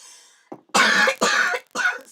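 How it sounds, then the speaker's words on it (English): A woman coughs in three close, harsh bursts while laughing, with a faint breathy lead-in, heard near and alone. "laughing and coughing at the same time"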